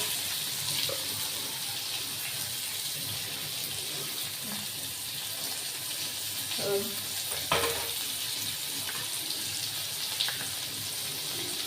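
Tomatoes and turmeric fry in a pan for a traditional kurdai bhaji, with a steady hissing sizzle and a few soft stirring scrapes and clinks.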